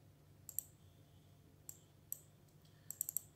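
Someone types on a computer keyboard in a quiet room. There are a few sparse, crisp key clicks, then a quick cluster of taps near the end.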